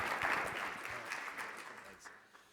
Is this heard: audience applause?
yes